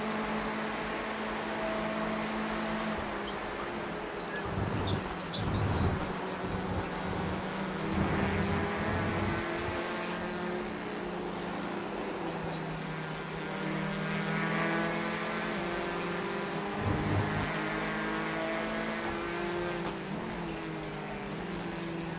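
In iRacing, a Ford race car's engine holds a steady, droning roar with harmonic whine throughout, swelling slightly at moments, running continuously.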